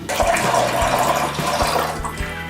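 Sugar water mixed with two double espressos is poured gently into imperial stout beer in a secondary fermentation bucket, giving a steady, close liquid pour and splash that runs continuously throughout.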